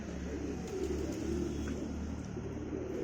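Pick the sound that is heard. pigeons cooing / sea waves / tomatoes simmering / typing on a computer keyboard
pigeons cooing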